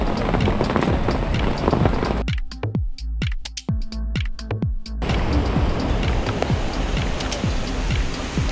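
A continuous roar of rushing water from Datanla waterfall in Dalat, Vietnam, that drops away briefly midway, leaving muffled thumps, then surges back strong and steady.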